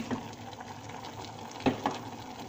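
Ground masala paste for vegetable kurma fries in a pan with a quiet, steady sizzle and a couple of soft stirring knocks, close and faint.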